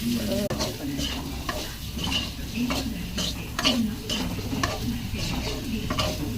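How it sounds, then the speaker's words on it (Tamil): Spices frying in oil in a pan over low heat for a baby potato pepper fry, with a spoon stirring in rhythmic scrapes and taps over a soft, continuous sizzle, close by and without talk. "சிம்மிலே வச்சுட்டு இது கிளறிக்கிட்டே இருக்கணும், இல்லைன்னா கரிஞ்சிரும் மசாலாலாம்."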